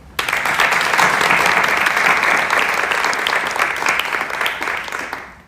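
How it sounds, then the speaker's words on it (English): An audience at a 2019 nurses pinning ceremony at Kansas Wesleyan University breaks into a full round of applause that starts sharply, holds steady and loud, then tapers off at the end. "we would like to acknowledge your support with a round of applause."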